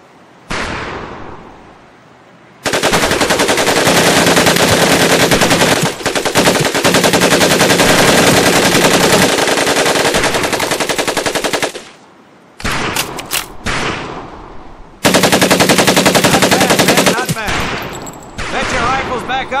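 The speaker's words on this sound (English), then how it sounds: "Take your time to aim and fire the weapon in short bursts only." Automatic weapon fire from a Pacific Assault training scene in the Medal of Honor game, loud, close rapid bursts of varying length broken by brief pauses, with faint voices underneath.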